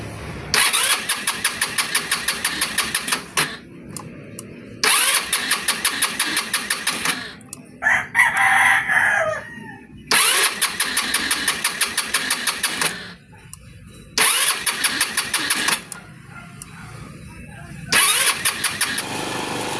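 A Motor Star Easy Ride 150 motorcycle engine cranks and starts in repeated bursts, running loudly for a few seconds at a time and cutting out between attempts, close and alone.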